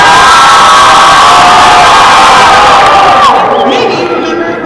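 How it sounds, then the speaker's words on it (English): A large youth crowd at a state FFA convention cheers loudly, a dense roar of shouts and whoops sustained throughout before easing slightly at the close. "Now give a big cheer if you remember state convention last year."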